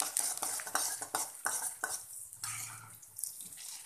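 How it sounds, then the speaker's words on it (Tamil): Mustard seeds and chana and urad dal frying in a pan for rava upma over a medium flame, with sharp scattered crackles and pops. A utensil stirs and scrapes against the metal, and no one speaks. "கடுகு பொரிஞ்சோடனே நம்ம எடுத்து வச்சுருக்க கடலைப்பருப்பு உளுத்தம்பருப்பும் அதில் போட்டுப்போம்"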